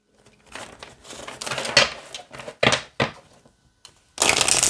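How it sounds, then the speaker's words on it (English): A deck of crystal blessing cards is shuffled by hand in bursts of riffling and slapping, with short pauses between them and a loud final run of card noise at the end. "let's see how it shuffles and then we'll read a card."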